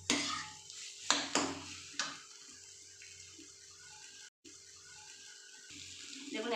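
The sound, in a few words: stir-frying potatoes with spices in a pan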